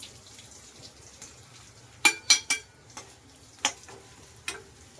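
Vegetables and spices frying in a pan, a low steady sizzle broken by a few sharp clicks and taps, likely a spoon or spatula stirring against the metal, heard up close with no talking.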